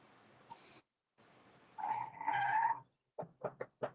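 A voice imitates car tires screeching, a harsh, buzzy squeal held for about a second after a quiet start, followed by several short sharp bursts, fairly faint overall.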